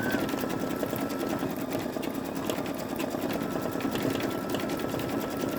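An older Babylock Esante embroidery machine stitches flowers onto a terry cloth towel, giving a steady, rapid, close mechanical whirring and needle clatter with no pauses.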